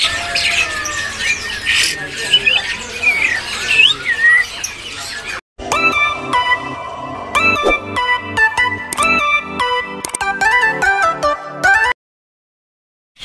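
Songbirds at the Pramuka bird market in Jakarta squawk and chirp in a busy stall for about five seconds. A louder run of sharp, ringing electronic-sounding calls follows, then the sound cuts to silence.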